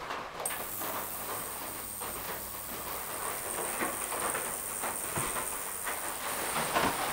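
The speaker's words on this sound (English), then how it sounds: "after about 10 minutes in the ultrasonic cleaner" An ultrasonic cleaner runs with a load of 50 brass ammunition cases inside, giving a steady close hiss and buzz with faint rattling throughout, no voices present.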